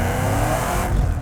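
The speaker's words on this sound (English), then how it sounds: "Blows the tires straight off of second gear, leaving rubber on the road as per usual" A 600-horsepower Shelby Mustang GT500 launching hard in second gear, its engine roaring loud and close while the rear tires spin and squeal against the road, with no talking.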